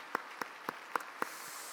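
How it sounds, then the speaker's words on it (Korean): A few slow, separate claps sound quietly in a church during a Korean Sunday sermon, about five evenly spaced hand claps over a soft background hum. "우리 한번 박수로 한번 격려해 주면 어떨까요?"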